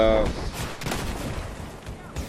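Gunfire in the video game Battlefield 4: a loud shot blast opens, then rolling, booming echoes and rumble trail off, followed by a few lighter cracks.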